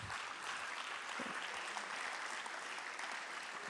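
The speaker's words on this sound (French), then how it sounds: "On peut applaudir" Audience applause at a French round-table professional event, steady continuous clapping from a crowd filling the room for several seconds, no voices over it.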